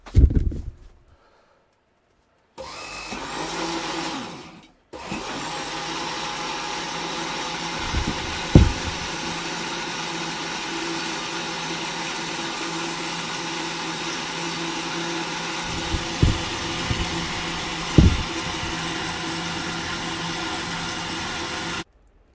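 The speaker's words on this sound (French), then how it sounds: "je vais allumer le mixeur jusqu'à temps d'avoir ce qu'on appelle la trace" Electric stick blender whirring steadily as it mixes olive oil with caustic soda for Marseille soap, a continuous motor drone after a brief start-stop, with a few knocks against the container along the way.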